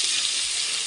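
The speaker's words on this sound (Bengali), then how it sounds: "কাঁঠালটাও ভাজা বসাই দিচ্ছি।" Jackfruit pieces and shrimp frying in hot oil, a steady close sizzle with hissing spatter throughout, no voices.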